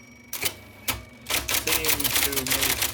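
IBM Selectric II electric typewriter clacks through a few separate keystrokes, then a rapid, loud burst of typing, over a faint electric motor hum.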